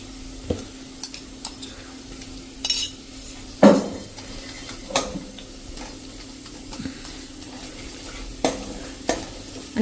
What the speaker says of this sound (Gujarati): અને આ રીતે આપણે એને 1-2 મિનિટ સાંતળી લેશું.